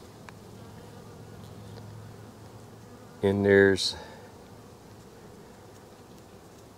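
Honey bees on a hive frame lifted from a brood box hum in a steady, close drone, with a brief burst of louder sound and a few spoken words partway through.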